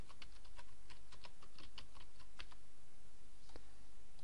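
Computer keyboard keys typed in a quick burst of close, crisp clicks while entering a plugin search, followed by a pause and one final key press.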